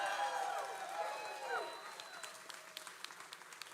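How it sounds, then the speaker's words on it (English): Applause from a bar audience thins out into scattered, fading claps, with a brief bright tone sweeping through the start. "Give them a nice round of applause tonight."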